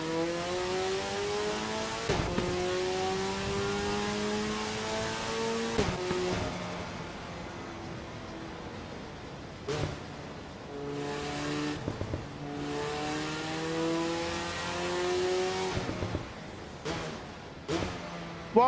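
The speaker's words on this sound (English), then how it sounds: "Wow, this car sounds awesome!" A race car in the Assetto Corsa Evo sim screams through repeated hard accelerations, its engine pitch climbing and snapping down at each gear change, with brief tire squeal and sharp transients, loud and continuous for the whole stretch.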